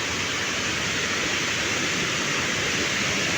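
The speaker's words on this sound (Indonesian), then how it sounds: "di bawah di situ adalah air terjunnya" Curug Kokoi waterfall roars as a steady, dense rush of falling water, loud and unbroken throughout, with no voices over it.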